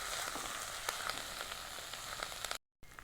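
Crushed black pepper sautéing with curry leaves in hot peanut oil, a soft, steady sizzle with faint crackles and pops, quiet and close, ending in a brief cut of silence.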